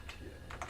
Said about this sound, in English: enter my password.